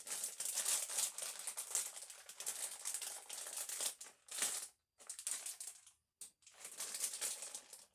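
Dense, loud crinkling and crunching of a plastic snack bag being handled, continuous with a couple of brief pauses, close to the listener.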